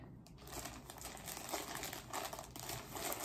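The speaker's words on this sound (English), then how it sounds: "Just rip it up, girl." Hair wig packaging being ripped open by hand, a steady run of crinkling, tearing plastic that stays close and fairly even throughout, with no talking over it.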